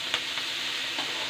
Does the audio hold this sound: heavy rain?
no